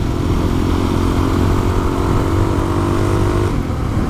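An adventure motorcycle on a trail loop through the Allegheny region holds a loud, steady engine drone close to the microphone, pulling up through higher gears with wind rush and no speech.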